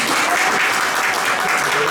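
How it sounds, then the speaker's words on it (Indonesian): Dense, steady applause from an audience welcoming Pak Imam at a teachers' dissemination session on positive school culture, filling the full two seconds at close range with no pause. "Tepuk tangan untuk Pak Imam"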